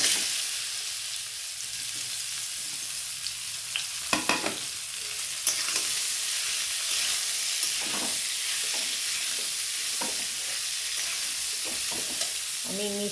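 Amla gooseberries hit hot oil already reddened with dried chillies and bay leaves for a pickle, making a loud, continuous sizzle up close, broken by occasional clinks and stirring scrapes.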